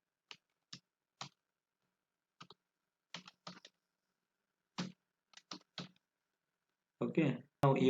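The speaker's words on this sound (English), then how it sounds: "now type here your email ID" Sparse clicks from a computer keyboard as an email ID is typed, single keystrokes and short bursts spread over several seconds in a quiet room, followed at the end by a person speaking.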